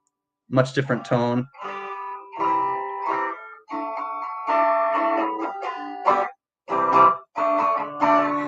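An electric guitar is strummed and picked after its tone switch is flipped, giving a brief spoken intro followed by several bright, sustained chords and short bursts, close and clear.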